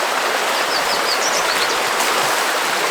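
River water flows steadily beside a trail at a Colorado campsite, a continuous close broadband rush with no talk, faint bird chirps above it.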